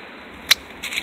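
A sharp snip of pruning shears, followed by a softer rustling snip of cutting thin apple tree branches outdoors in wind.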